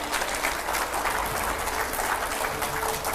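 A studio audience applauds steadily to welcome a guest onto a television talk show, a continuous even wash of many hands clapping, moderately distant and sustained throughout.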